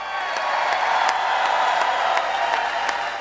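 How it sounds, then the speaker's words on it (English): Rally crowd in Melbourne, Florida applauds steadily for a sheriff's introduced guest, dense clapping mixed with scattered whoops and cheers, loud and continuous throughout. "Give him a big round of applause."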